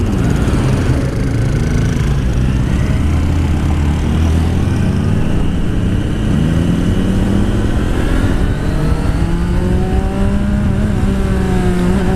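A 2016 Suzuki Bandit motorcycle accelerates hard in first gear, its engine note rising steadily in pitch, loud and close with strong wind roar throughout.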